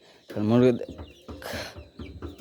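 Chickens clucking close by in a farmyard pen around feeding time, a loud cackle followed by softer clucks, with a person speaking over them.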